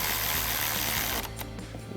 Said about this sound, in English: Go ahead and reinstall that nut right back on there. And go ahead and tighten that right back down.